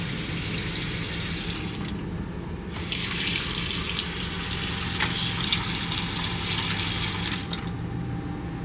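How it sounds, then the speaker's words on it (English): A tap runs steadily into a sink as it fills, a constant close hiss and rush of water that holds at an even level throughout with no voices. "Sink filling up."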